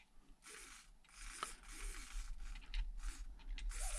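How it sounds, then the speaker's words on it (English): A small RC servo on a DumboRC X6PM-350 car radio setup whirs and grinds in short bursts, a faint mechanical buzzing that starts and stops repeatedly. "this servo is making noise"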